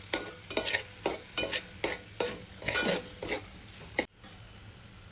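Fish curry masala cooks down in oil in a Konkani-style pan. Repeated stirring strokes scrape against the pan over a steady sizzle, then stop abruptly near the end.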